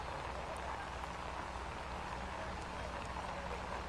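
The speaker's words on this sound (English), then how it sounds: "considering the tough conditions with the rain" Steady rain falls throughout at a disc golf tournament, a dense, even hiss of drops spattering on surfaces with no breaks.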